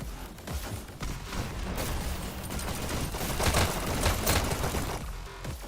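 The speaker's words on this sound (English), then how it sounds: "Reader Gator comes in with the SMG and just takes out 2" Rapid SMG fire and scattered shots in a team-based payload match of a competitive online shooter, dense bursts in a busy mix that swell toward the middle, with a caster talking faintly underneath.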